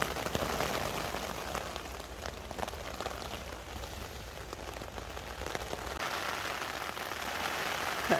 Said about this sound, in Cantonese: 強勁風雨